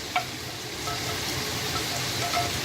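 Beef samosa filling with fresh chopped mint and cilantro being stirred in a pan, a soft continuous sizzle with faint scraping and a small clink at the start, fairly quiet and without talking.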